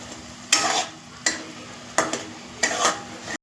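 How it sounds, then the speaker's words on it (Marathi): Masala sautéed in oil in a pan, with four distinct bursts of stirring and scraping, each bringing a surge of sizzle that fades back to a low simmer between strokes, close and fairly loud. "आता आपण मसाला परतून घेऊया।"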